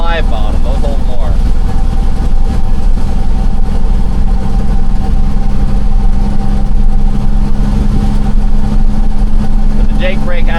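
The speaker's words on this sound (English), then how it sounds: "the Jake brake hasn't turned off for a mile, so these hills definitely takes a lot to hold back" A loaded truck with a trailer descends long hills on a Jake brake, producing a loud, steady, deep engine drone that holds unbroken throughout while someone talks over it.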